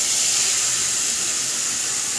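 Drained rice tipped into hot ghee with grated ginger in a kadai over low flame, giving a steady, close hiss and sizzle that holds evenly from start to finish.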